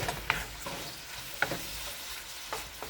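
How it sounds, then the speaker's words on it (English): Shrimp sautéing in a pan with garlic, a soft, fairly quiet sizzle broken by three light stirring scrapes spaced about a second apart. "so I'm going to saute my shrimp"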